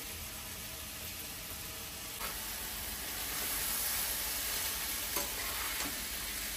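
Mixed vegetables such as cauliflower, salted and stirred in a pot for veg masala pulao: a faint, steady sizzling hiss with a few soft scraping stir strokes, no voices.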